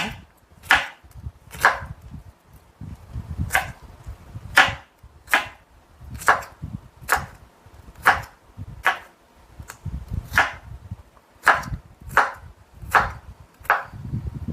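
A knife chops vegetables into thin julienne strips, 5 cm long and 0.5 cm thick, on a cutting board, with a steady series of about twenty sharp, close knocks in an even rhythm and no talk.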